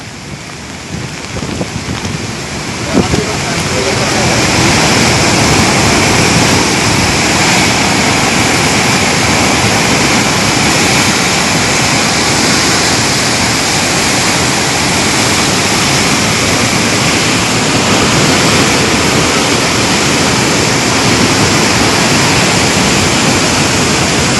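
A loud, continuous roar of rushing floodwater in Punjab fills the scene, steady and dense from start to finish after a brief quieter opening.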